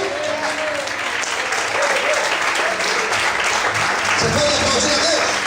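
Church congregation applauding a preacher, a dense sustained wash of clapping from a large crowd filling the space, steady and loud throughout with voices mixed in.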